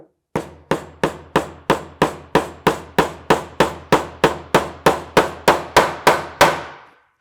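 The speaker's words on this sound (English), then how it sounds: "let's hammer off that nail" A hammer drives a panel nail into a small wooden DIY cajon with about twenty evenly spaced, sharp woody knocks that ring briefly and speed up slightly toward the end.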